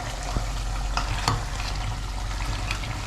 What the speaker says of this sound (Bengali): কড়াইতে শুধু আলুটা ভেজে নিলাম